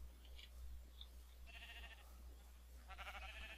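Sheep in Minecraft with the Direwolf20 1.12 mod pack bleat in two distinct wavering calls, one near the middle and a longer one at the end, over a low steady hum.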